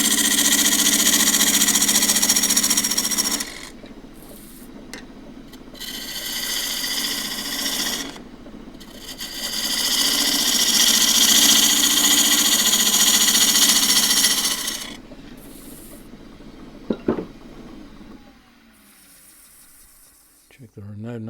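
A wood lathe turns an off-balance picture-frame blank with heartwood running across at an angle, cut with a 3/8 bowl gouge; loud sustained whirring and rattling comes in long bursts with brief pauses, near and steady.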